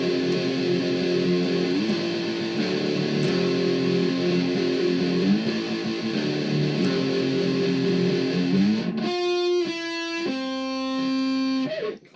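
An electric guitar plays a song through a heavy distortion effect, with sustained chords that shift in steps, then a cleaner, brighter picked phrase near the end. It is played alone at moderate level.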